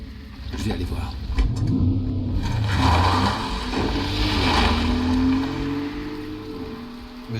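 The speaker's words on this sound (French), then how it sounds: "Monsieur roule en Porsche." A Porsche driving through traffic in the Resident Evil Requiem game, its engine humming and shifting in pitch under a wash of road or rain noise, with voices speaking over it.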